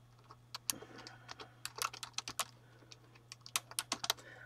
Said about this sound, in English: I'm typing. Can't type and talk.